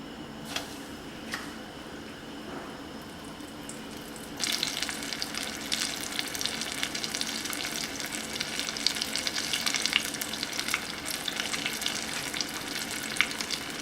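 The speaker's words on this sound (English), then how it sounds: "Okay, I'm going to put in the potato bowl. Just be careful when you do this so you don't get burned with the hot oil." Stuffed potato balls drop into hot oil and set off a sudden burst of frying, a steady crackling sizzle with sharp pops, following a quieter stretch of faint kitchen clatter.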